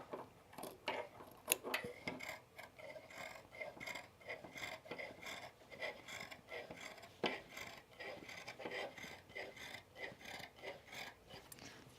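Scissors clipping into the curved seam allowance of trousers: faint, repeated crisp snips and rasping cuts in an uneven rhythm, close up in a quiet room.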